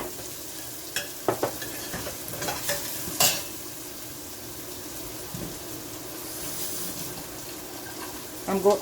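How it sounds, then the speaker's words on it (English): Jamaican curry shrimp in coconut milk is stirred in a pan, giving a soft bubbling simmer with scattered spoon scrapes and a few sharper knocks against the pan. "So we're just gonna go ahead and stir that in together."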